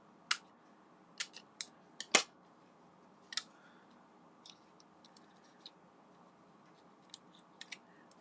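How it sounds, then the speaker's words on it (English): Scissors cutting the edges of paper pieces for a scrapbook page, a series of short crisp snips spaced irregularly with brief pauses, close and fairly quiet. "So I'm just going to cut the edges of my"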